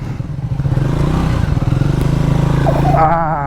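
A motorcycle rides along a forest road on a breakfast ride, its engine a steady, throbbing drone that swells and revs close by, with a rider's voice briefly mixed in.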